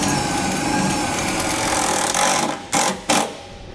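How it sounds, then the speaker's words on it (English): A power drill drives a number 12 self-tapping screw to fix a bracket while installing a Titan BrakeRite II SD electric-hydraulic actuator: a steady mechanical whir, then two or three short, louder bursts as the screw seats. "I'm gonna use a number 12 self-tapper and secure the bracket in place."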